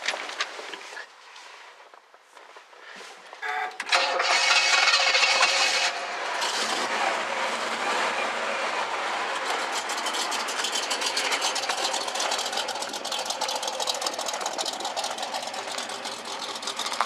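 A classic 1960s vehicle engine cranks and catches after a few seconds, then settles into a steady, rough idle with a busy mechanical rattle, close and loud with no talking.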